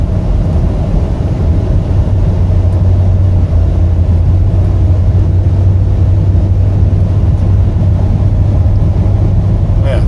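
A 2022 Ford F-350 XL regular cab with a utility bed and four new tires cruises at nearly 60 mph, giving a steady, loud low road-and-engine drone that holds evenly throughout, with talking over it.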